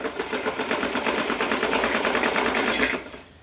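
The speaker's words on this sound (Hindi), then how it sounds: "इसी तरह से तीनों साइड की किनारी को हम सिल लेते हैं।" A sewing machine runs steadily in a close, even whir with a rapid stitching pulse while hemming the edges of a cotton summer outfit, then slows and stops near the end; no one speaks.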